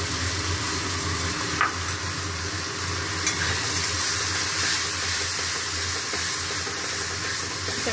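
Onion fried with ginger, cumin, dried chili powder, salt, turmeric and garam masala, sizzling loudly and continuously in a pan while being stirred, a steady close crackling hiss throughout.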